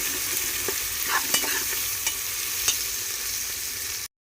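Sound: onions frying and being stirred until brown

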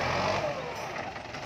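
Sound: M9540 tractor engine running

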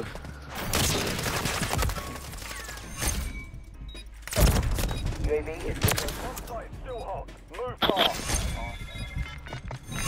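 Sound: gunfire in Call of Duty Modern Warfare 3, video game

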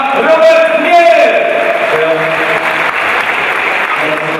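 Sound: audience applause for speedway rider Robert Mier

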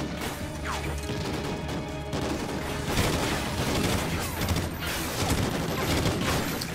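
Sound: machine gun fire in video game Call of Duty Ghosts

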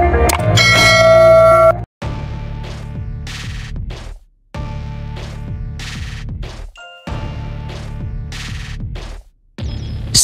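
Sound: notification bell sound effect

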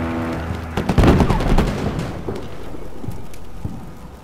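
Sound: HEAT rounds fired into building, video game Combat Mission Shock Force

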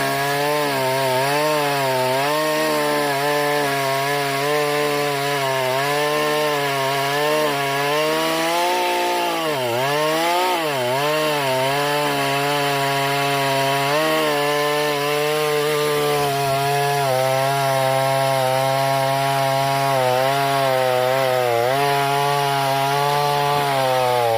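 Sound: chainsaw cutting hard pear wood

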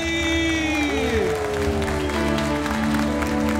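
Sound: congregation applauding at a worship service

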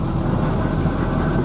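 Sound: tractor passing by

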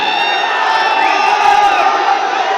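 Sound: audience shouting and applauding at a Kannada film event

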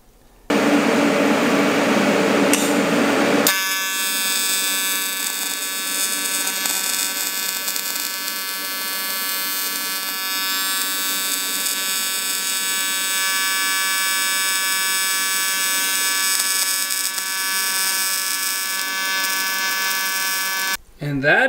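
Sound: welding the backside of an engine block

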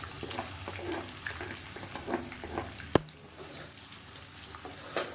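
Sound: curry leaves and onions frying in oil

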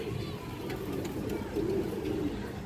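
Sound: female pigeon cooing

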